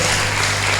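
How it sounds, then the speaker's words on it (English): An audience at a university lecture on state policing applauds a speaker, a dense, loud wash of clapping lasting under a second. "An applause for him,"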